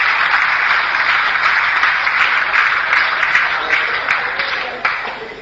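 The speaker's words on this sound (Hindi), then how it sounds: "एक बार तालियां बजाएं आपके लिए" Seminar audience claps in a dense, fairly loud burst of applause that gradually thins and tapers off over several seconds.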